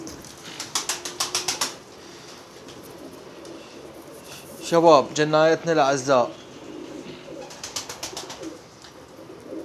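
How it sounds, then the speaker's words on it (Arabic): Iraqi sky-blue pigeons cooing in soft rhythmic bursts, with a louder rolling coo sequence midway and some wing flutter, while someone talks over them. "شباب هذا الحمام نفس ما تشوفون"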